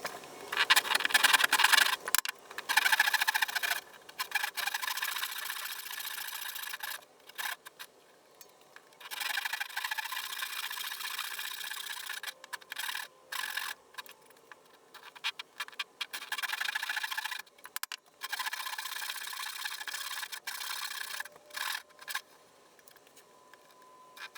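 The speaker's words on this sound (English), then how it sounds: "So I'm just going to make 4 saw cuts in these 2 blocks, which are held together with clamps at the moment." A hand saw cuts into two wooden blocks held together by clamps, with repeated rasping back-and-forth strokes in bursts separated by short pauses, close and clear.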